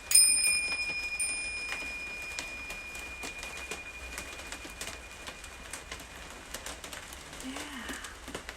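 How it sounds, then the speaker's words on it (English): A mindfulness bell struck once during a live tai chi session. It sounds a clear, bright ring that slowly fades over several seconds, with soft room noise and faint birdsong around it. "We invite the bell to ring."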